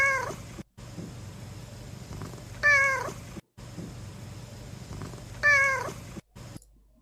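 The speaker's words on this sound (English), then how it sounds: "Salad's precious little meows." A cat named Salad gives repeated drawn-out meows, three rising calls spaced a few seconds apart, close and clear over a low steady background hum.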